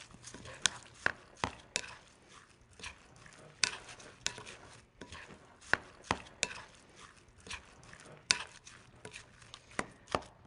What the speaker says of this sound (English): Now, I'm going to mix that all up